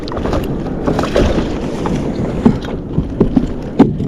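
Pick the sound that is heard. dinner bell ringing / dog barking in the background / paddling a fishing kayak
paddling a fishing kayak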